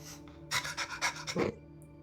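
A person's voice imitates a small dog like a Pomeranian barking: a quick run of about six breathy, yappy bursts in rapid rhythm, close and fairly loud, with no other talk.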